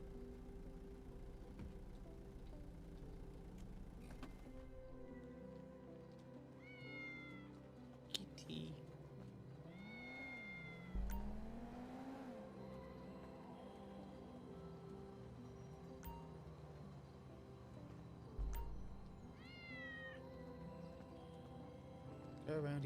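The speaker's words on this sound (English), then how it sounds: "Kitty cat!" Repeated cat meows inside a GTA 5 RP game, a few short rising calls spread across the stretch over steady engine-like game ambience, with a voice speaking briefly.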